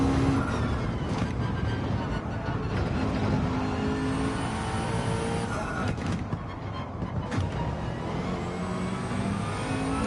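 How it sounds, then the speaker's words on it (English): Gr4 race car in Gran Turismo 7 held at high revs for the full stretch, a loud, steady engine drone with brief gear-change dips, under game audio with faint talk. "Just going to rev it out down here."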